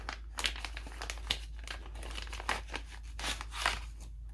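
A paper instruction sheet from the packaging of a weapon mount is crinkled and handled close by, with repeated rustles and crisp crumpling bursts throughout.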